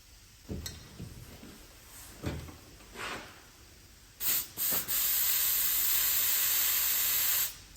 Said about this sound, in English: It's funny old stuff, this spray waxy, whatever it is, lanolin.